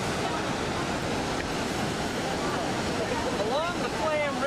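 Steady roaring rush of a waterfall along Norway's Flåm Railway, loud and constant, with faint voices rising near the end.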